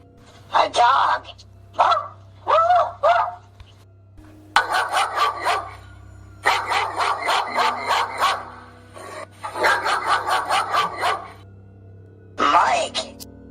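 A person mimics a dog with rapid bursts of barks and yips, several quick runs of woofs close and loud, separated by brief pauses.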